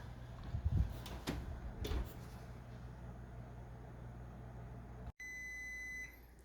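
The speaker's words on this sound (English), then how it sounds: "There's our timer." A kitchen oven timer goes off as no-knead crusty bread finishes baking: a steady electronic beep sounds for about a second, clear and close, after some quieter kitchen clatter.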